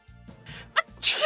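A single sudden sneeze bursts out close by near the end, sharp and bright after a quick intake of breath, with low game sounds and murmuring beneath during a co-op gaming session.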